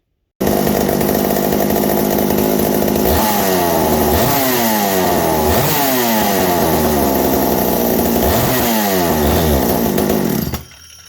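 A McCulloch 790 chainsaw engine runs loud and close for about ten seconds, its rough two-stroke drone swelling and falling in repeated throttle blips before cutting off abruptly.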